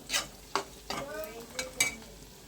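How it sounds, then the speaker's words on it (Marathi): Bay leaf, chili and spices stirred in a hot frying pan: a few distinct scraping strokes about every half second, close and fairly loud over a soft sizzle, with no talking. "आता हलवून घ्यायचं. मिक्स करून घ्यायचं."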